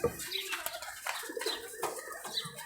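A male pigeon handled at a local pigeon market in Rajshahi, with soft wing flutters and faint cooing bird sounds close by, the sounds irregular against a busy background.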